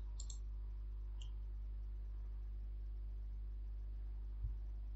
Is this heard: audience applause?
no